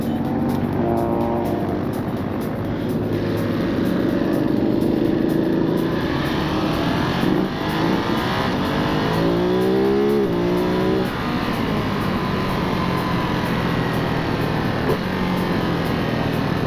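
A police car rolls past during the Chisinau motorcycle season opening, a loud continuous engine rush and Doppler sweep amid steady crowd and traffic noise.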